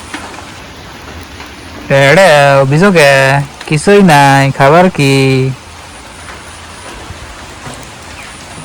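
Rain falls steadily outdoors as a soft, constant hiss beneath the scene, while someone talks loudly and close in short bursts through the middle of it.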